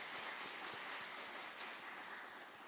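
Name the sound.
church congregation applauding the worship team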